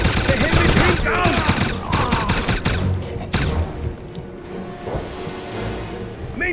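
Sustained gunfire rattles through a Wolfenstein firefight, with dense bursts and overlapping shots that thin out after a few seconds while shouted voices break in underneath.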